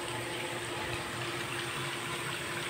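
Water pouring into a wave pool at a resort in Montalban, Rizal, a steady filling rush with an even, continuous hiss, moderately faint and free of voices.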